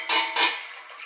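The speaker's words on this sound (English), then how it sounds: "I've got a litre here, so I'm going to pour that in" Water poured from a litre jug into a pot holding 225 grams of rice for a cookbook recipe, two quick loud splashing gushes close by, each trailing off into a softer trickle, with no talking.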